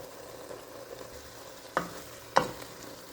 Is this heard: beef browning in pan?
yes